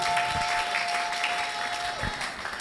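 A congregation applauds during a French-language church service, sustained clapping filling the room at moderate level, with a faint voice in the background.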